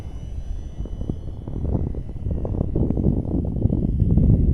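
Radio-controlled F-86 model jet making a low pass at full throttle, a steady rushing turbine roar that swells louder as it approaches, heard alone outdoors.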